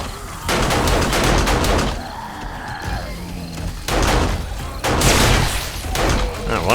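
An automated turret in the survival game 7 Days to Die fires at irradiated zombies in loud, rapid bursts that stop and start, with a short lull of other game sounds between volleys.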